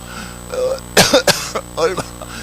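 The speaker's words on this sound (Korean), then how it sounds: "제가 지금 기침을 이렇게 많이 하고" A man coughs twice in quick succession, harsh and close, followed by a couple of short throat-clearing hacks, during a Sunday morning church sermon, with a quiet hall between bursts.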